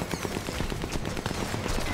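Rapid, dense gunfire from enemy soldiers in the video game Sniper Elite 4, a continuous rattle of shots and bursts filling the whole stretch at steady loudness, with no talking.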